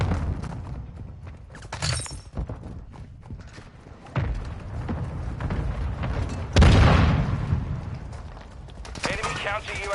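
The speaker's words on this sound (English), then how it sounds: "Hostile mortar strike incoming." Mortar strike explosions in Modern Warfare 2, several booms and crashes scattered through a noisy battlefield mix, the loudest blast near the middle, under game announcer callouts.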